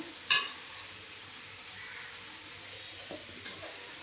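Spinach pakodas frying in oil make a soft, steady sizzle, opened by one sharp clink of a utensil against the pan and followed by a few faint scrapes as the fritters are stirred.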